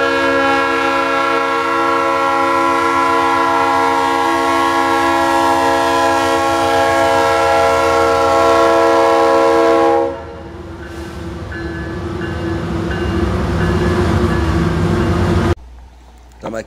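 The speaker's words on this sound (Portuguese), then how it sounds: "no comando de um trem com 272 vagões" Freight train of 272 wagons rolling past with a loud sustained multi-tone horn blast for about ten seconds, then rumbling wagons and wheel clatter continuing close by until an abrupt cut.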